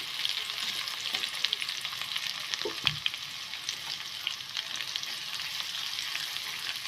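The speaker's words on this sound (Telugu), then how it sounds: "కొద్దిసేపు ఫ్రై అవ్వాలి" Cumin, onion and dried red chillies fry in oil left from frying gooseberries for a pickle, a continuous close sizzle with light crackles and a brief stir midway.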